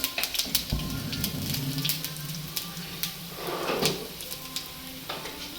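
Garlic frying lightly in a pan for a traditional Indian garlic thokku, a steady crackling sizzle with scattered sharp pops throughout, close and alone.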